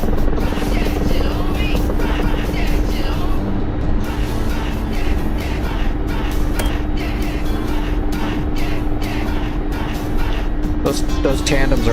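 A jet settling into a vertical landing in a flight simulator game over Syria, with a heavy, constant turbine roar and a steady whining tone throughout, plus faint clicks and radio-like chatter beneath.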